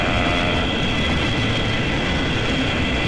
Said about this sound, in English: I like this one a lot, just because makes this crazy noise because it has all these missiles coming at you